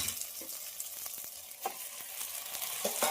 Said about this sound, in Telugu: ఇప్పుడైతే టమాటాలు వేసేసుకుందాము.